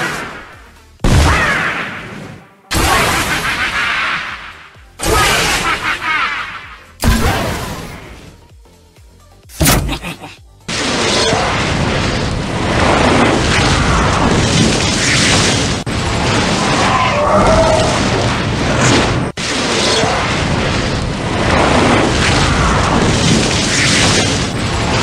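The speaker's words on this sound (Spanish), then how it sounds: "os voy a mostrar los efectos o los sonidos que tiene ese arma" Weapon effects from the Fortnite Halloween event, a video game. Several loud, separate booming blasts with sharp attacks come first, followed by a long sustained roaring, rushing sound.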